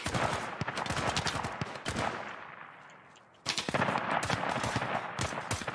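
Gunfire in the tactical shooter game Ground Branch: loud bursts of rapid shots, a short pause with a fading echo, then another sustained burst of automatic fire.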